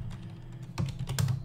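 Quick keystrokes on a Mac computer keyboard, a short burst of close, crisp clicks under a steady low hum.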